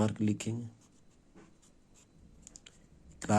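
Someone writes on a board during a maths lesson: faint, brief scratching strokes come between a teacher's speech at the start and at the end.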